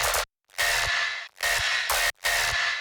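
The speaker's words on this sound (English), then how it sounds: "And with the processing after, with the snap heap and the EQ8, sounds like this." Tearout bass samples processed with Snap Heap and EQ Eight, playing as four heavy distorted bursts in a choppy rhythm, loud, dense and aggressive with tight gaps between hits.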